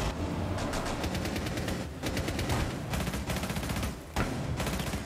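Sustained automatic gunfire from the shooter game Rainbow Six Siege, loud and close, rattling in rapid bursts with two brief pauses, with no voices over it.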